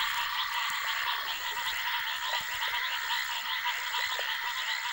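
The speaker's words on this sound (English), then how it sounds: "In response to the rains, the foam frogs launch their sexual orgies." Foam frogs call in a dense, continuous chorus at night after heavy rains along the Zambezi, many overlapping croaks pulsing steadily at moderate volume with no voices.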